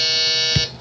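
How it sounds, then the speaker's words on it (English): A loud, sustained electronic game buzzer from the mobile strategy game Boom Beach holds one steady tone for about half a second before cutting off. "There's a game buzzer."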